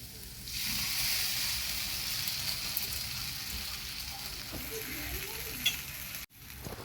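Masala with cashew and poppy seed paste sizzles and spits in a pan for several seconds, with occasional stirring scrapes before a sudden cut.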